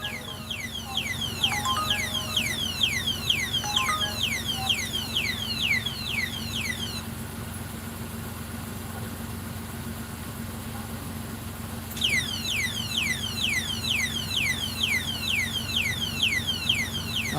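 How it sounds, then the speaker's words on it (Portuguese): A car alarm goes off near an Uber car driving through Aracaju. A rapid repeating chirping pattern cycles, pauses briefly, then resumes over a steady engine hum inside the vehicle. "Disparou o alarme."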